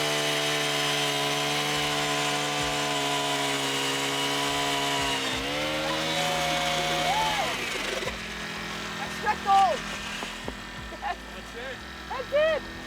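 Gas-powered ice auger boring a fishing hole through frozen Webster Lake, droning steadily at close range, then winding down. Voices and scattered knocks follow once the engine stops.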